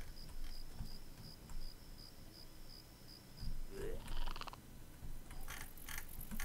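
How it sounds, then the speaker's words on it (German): Crickets chirping in the video game Craft the World, a fairly faint, steady pulsing chirp over soft background ambience, with some scattered clicks and rustles. "Ihr seid die Grillen. Ihr macht Grillengeräusche."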